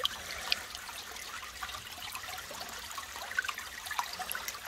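Water runs steadily through a gold panning sluice outdoors, a faint continuous trickling and rushing with small splashes scattered throughout.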